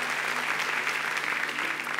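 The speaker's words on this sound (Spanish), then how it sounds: "Dale un aplauso al Señor." A church congregation applauds during a sermon, a dense, steady wash of many hands clapping at once, close and full, sustained throughout.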